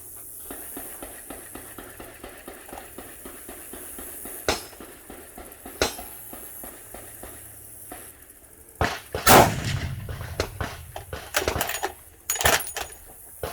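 A Desert Tech SRS M2 bullpup rifle in .338 fires a single heavy report with premium ammunition at a range, preceded and followed by sharp metallic clicks and clacks of bolt handling.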